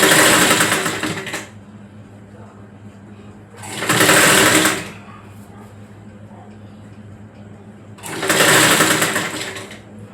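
A sewing machine stitches piping onto a tux blouse in three loud, close bursts of fast whirring, separated by quiet pauses.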